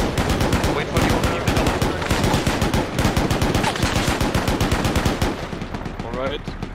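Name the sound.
enemy machine gun fire in a video game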